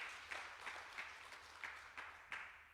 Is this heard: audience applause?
yes